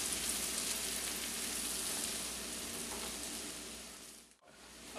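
Shallots and chopped fresh garlic saute in melted butter in a pan, a steady close sizzle that holds evenly for several seconds before a brief dip near the end.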